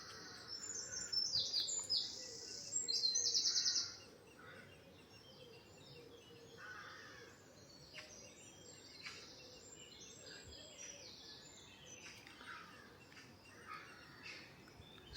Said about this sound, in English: Sounds like a reed warbler